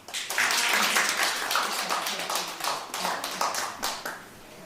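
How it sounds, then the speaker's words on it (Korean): Church congregation claps in a short round of applause during a Korean worship service, with dense, uneven hand claps at moderate loudness and no talking over them. "박수 하나 줘."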